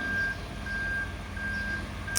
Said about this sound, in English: Trucks backing up.